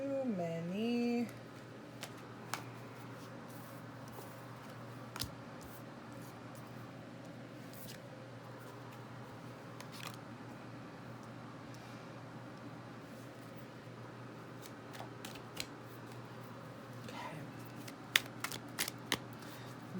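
Tarot cards riffled and slid from a deck in a steady, soft papery shuffle with small snaps as cards are pulled, close and quiet beneath a low constant hum.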